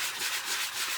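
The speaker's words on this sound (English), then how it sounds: "Let's do a little bit of sanding." Hand sanding in a kitchen using the fine side, a brief close, steady raspy rubbing with a gentle back-and-forth pulse.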